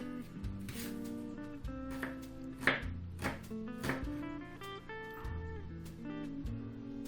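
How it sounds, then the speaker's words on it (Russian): A knife dicing an onion on a cutting board in quick, irregular taps, fairly quiet, with soft background music. "Одну луковицу нарезаем мелким кубиком."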